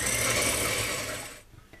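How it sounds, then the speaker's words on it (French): An electric hand mixer beats egg whites with a pinch of salt into stiff peaks for a chocolate charlotte, giving a steady, close whirring buzz that cuts off near the end. "avec notre batteur électrique."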